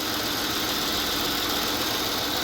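Buick LeSabre engine running with new spark plug wires, a loud, steady idle with a continuous broadband roar and slight rough knock, close up and constant.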